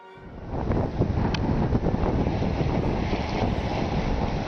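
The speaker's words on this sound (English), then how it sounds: "The wind has gone down a bit. It's only blowing about 25 to 30 now." Strong wind of about 25 to 30 knots at sea aboard a sailboat, a loud steady roar that swells up within the first second and rumbles on without a break, with no voices.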